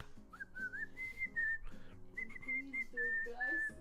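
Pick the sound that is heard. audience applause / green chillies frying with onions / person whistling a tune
person whistling a tune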